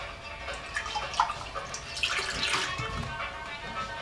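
Milk from a carton pours into a glass while making a sponge cake, giving a soft, close liquid splashing and gurgling that swells and fades over a few seconds.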